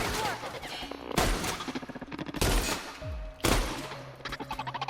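Shotgun blasts in the sci-fi shooter The Outer Worlds, three or four loud booming shots spaced about a second apart, each with a sharp crack and rumbling tail over a busy game soundscape.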